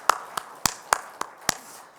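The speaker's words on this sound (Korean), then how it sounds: "주님께 영광의 박수 올려드릴까요?" A congregation in a church service gives applause, heard as six sharp, evenly spaced claps at a steady rhythm, close and crisp, with no talk over them.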